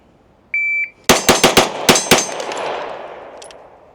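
SIG Sauer P211 pistol fired in a fast string of about six loud, sharp close shots, preceded by a brief electronic shot-timer beep, with ringing decay after the last shot.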